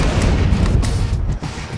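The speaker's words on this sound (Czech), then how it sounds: "Teda, ale tady to pěkně bombardujou ty trosky. Teda, ale vybuchuje to všude." Heavy bombardment in the video game Chaser, with loud, deep, rumbling blasts rolling one into another across a ruined city and a dense, continuous boom that barely lets up.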